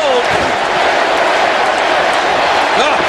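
A wrestling arena crowd roaring for Vince McMahon during his match against The Undertaker, a dense, loud wash of cheering that holds steady from start to finish beneath a commentator's voice.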